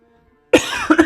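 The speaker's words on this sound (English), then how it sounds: "I'm sorry for the cough." A single sharp cough rings out close to the microphone after a brief silence, followed by a short second rasp.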